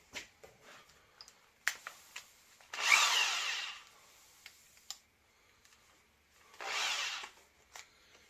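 A power drill with a dull, hot bit drills wood in two short bursts, separated by quiet clicks and taps, close and fairly loud.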